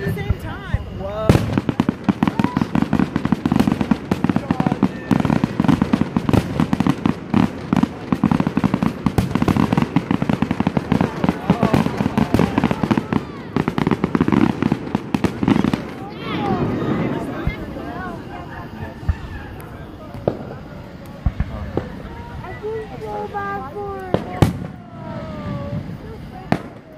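Fourth of July fireworks set off nearby, a rapid barrage of sharp bangs and crackles that thins into scattered pops and whistles, with excited voices talking and shouting over it.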